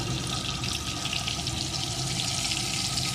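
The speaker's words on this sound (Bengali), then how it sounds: "এখন সুন্দর করে বেশ কিছুক্ষণ কষিয়ে নেবো" Vegetables with salt and turmeric sautéing in a pan, a continuous, even sizzle and hiss close up, with no talking.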